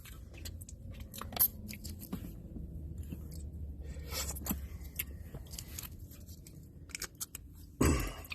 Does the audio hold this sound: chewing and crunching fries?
yes